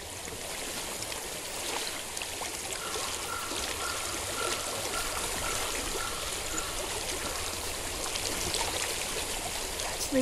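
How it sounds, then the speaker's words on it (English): Steady rushing and trickling of a flowing stream in Hellblade: Senua's Sacrifice, a continuous broadband wash of water that stays even and fairly close throughout, with no talk over it. "I hear water. Go to it."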